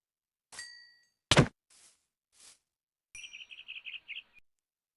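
Minecraft crow sounds: a few scattered short chirps and calls separated by silence, ending in a quick run of rapid tweets, fairly faint and alone.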